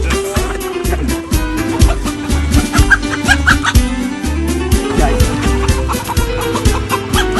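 Chickens and a rooster cluck and squawk loudly and continuously up close, with agitated bursts and scuffling over a busy, noisy background.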